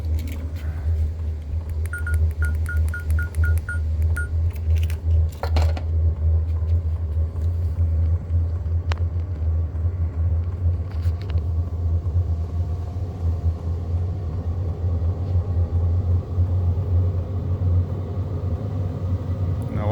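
A Sunster diesel heater on a 12V power pack starts up and runs, giving a steady low rumbling hum with a brief series of beeps and a few clicks early on.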